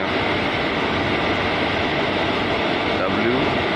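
Constant rolling rumble of the Tiruchendur Express as it pulls away and moves, an unbroken even drone with faint tonal squeals near the end and speech over it.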